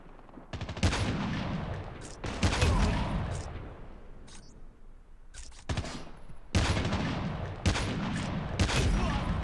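Bursts of automatic gunfire in Call of Duty Mobile's Arctic 50 free-for-all mode: loud, close volleys that come in several separate clusters with brief quiet gaps between them, no voices.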